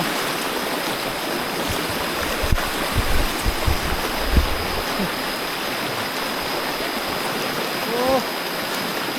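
A muddy forest stream swollen by a flash flood rushes deep along a jungle trekking trail, a steady, close, full-bodied roar with faint voices now and then underneath.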